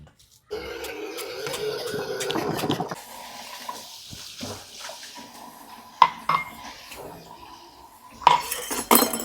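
Dishes and pots are washed in a home kitchen, with intermittent clinks and clatters of utensils and some running water, a few sharp knocks standing out near the end.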